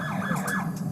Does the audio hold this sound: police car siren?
yes